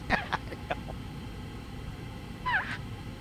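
A person imitates a cat with a short meow over air traffic control radio during a Boeing 737-800 flight in the X-Plane 11 simulator; a brief wavering call rises out of steady radio hiss near the end, after faint earlier chirps.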